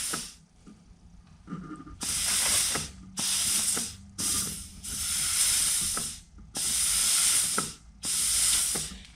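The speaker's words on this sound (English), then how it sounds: "that noise you're hearing is from the gun over here" Compressed-air gun blowing into a hole in a 200-4R transmission direct drum, loud hissing bursts repeated about six times in short, uneven pulses with clicks between.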